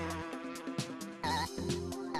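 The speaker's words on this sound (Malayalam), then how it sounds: "ഈ പീക്കിരി വണ്ട് എന്നെ ഡിസ്റ്റർബ് ചെയ്യാൻ തുടങ്ങിയിട്ട് കുറെ നേരമായി" Cartoon buzzing beetle sound effect, a continuous close whining drone that shifts in pitch through a short stretch.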